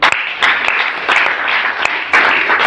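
Applause breaks out in a church congregation worship service, a dense, steady wash of many hands clapping with sharper bursts rising and falling throughout.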